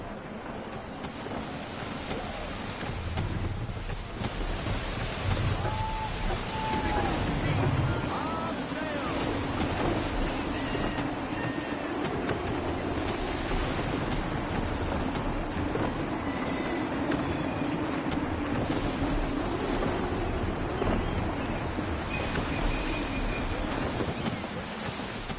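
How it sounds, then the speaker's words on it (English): Gusty wind and rolling ocean waves at sea in Assassin's Creed 3, a continuous broad rush of surf and wind buffeting with occasional voices talking faintly over it. "Gusty winds can be difficult to manage."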